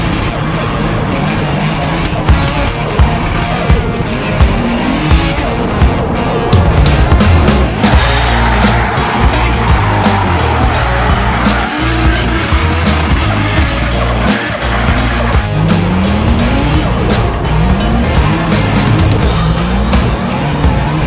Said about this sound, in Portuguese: vamos partir lá pro autódromo de Londrina e vamos fazer muito drift